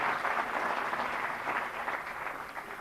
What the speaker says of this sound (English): give yourself a round of applause for being awake long enough for the last presentation